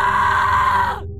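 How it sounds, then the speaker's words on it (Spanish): A loud, sustained scream with a strained, raspy tone, held for about a second before cutting off abruptly, alone and close. "¿De quién fue el grito?"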